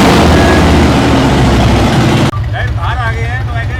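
Superbike engine roaring in a loud, steady, close fly-by for about two seconds, then cut off abruptly, leaving quieter background noise with a voice.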